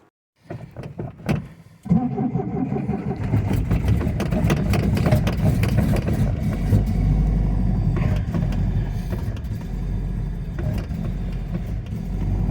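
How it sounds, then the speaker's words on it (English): A Triumph TR7 engine is cranked in cold weather near 42°F: a few brief cranking bursts, then it catches around two seconds in and settles into a loud, steady, rumbling idle close by. "She don't like starting in the cold, this car, but she's gonna have to"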